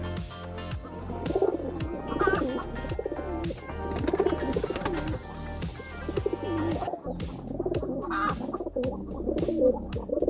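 Wild pigeons coo in repeated low, rolling phrases, several birds overlapping close by with a steady rhythm and no talk.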